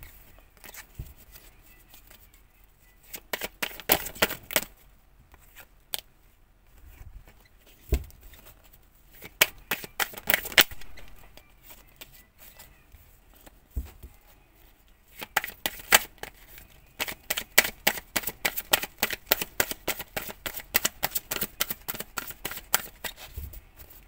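Tarot cards being shuffled in repeated bursts of crisp riffling and flicking, close and fairly loud, with short pauses between rounds and a faster, denser run near the end.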